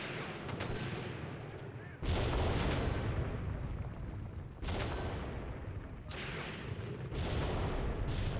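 Heavy artillery and gunfire boom in a Graviteam Tactics battle, several deep explosions arriving in separate bursts with long rumbling decays, loud and continuous across the stretch.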